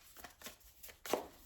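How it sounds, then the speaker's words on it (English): Tarot cards being shuffled by hand, a quick series of soft, faint riffling flicks over about a second and a half, heard up close in a quiet room. "I'm gonna shuffle more on this."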